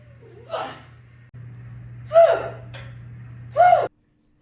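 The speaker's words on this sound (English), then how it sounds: "think of it as an aggressive exhale through the throat to generate pressure" Three forceful breathy exhales pushed from the throat, spaced about a second and a half apart, over a low steady hum.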